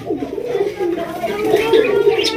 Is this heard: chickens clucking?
no